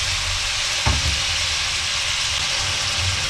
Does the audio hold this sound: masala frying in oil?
yes